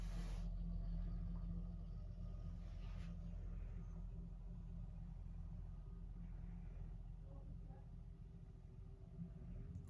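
A Massey Ferguson 640 tractor reverses with its trailer raised, a steady low engine rumble heard from a distance, continuous and even throughout.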